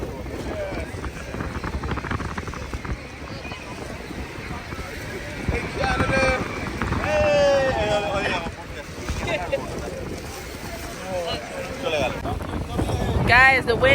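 Strong, gusty wind buffets the microphone beside a big waterfall on a boat ride, a steady roar rising and falling, with people talking over it.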